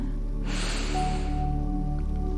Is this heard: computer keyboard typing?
no